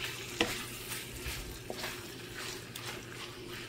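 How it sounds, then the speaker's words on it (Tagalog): Tomato and pepper stirred into a tuna sauce for farfalle pasta, a faint steady sizzle with soft scraping stirs and one small knock early on. "At haluin mo lang din ulit para lang mag-well combine yung flavor."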